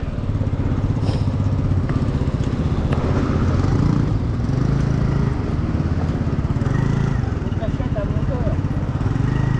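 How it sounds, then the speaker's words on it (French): A small motor engine runs loudly and continuously nearby with a rapid, buzzing putter, and voices speak over it at times. "Un moteur."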